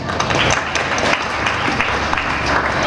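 Loud, dense applause from a school audience at an annual day celebration, a steady wash of clapping with no talk over it.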